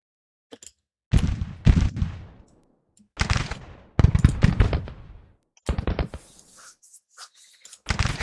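Gunfire in a Civil War video game rings out in several bursts of sharp cracks with decaying echoes, separated by brief quiet gaps, loud and close.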